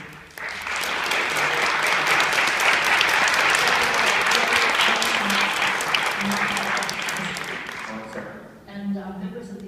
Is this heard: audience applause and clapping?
yes